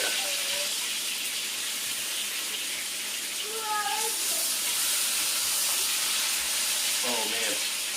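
Thick dry-aged ribeye steaks, cooked rare by sous vide, sear in a hot pan with a broad steady hiss of spitting fat, a few faint tonal squeaks drifting over the constant sizzle.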